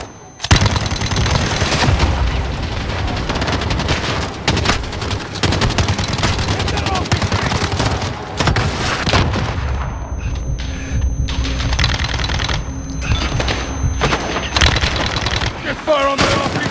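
Sustained gunfire in the Modern Warfare video game, with dense overlapping rifle and machine-gun bursts and explosive booms throughout, and shouted voices mixed into the din.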